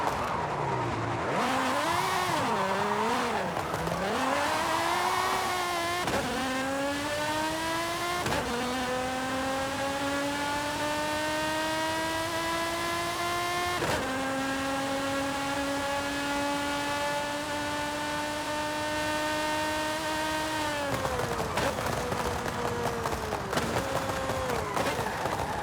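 A Lamborghini engine in Forza Horizon 5 revs and accelerates hard through repeated upshifts, each gear climbing in pitch before dropping, loud and close, with a brief lift near the end and no talking.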